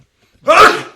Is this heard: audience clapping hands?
no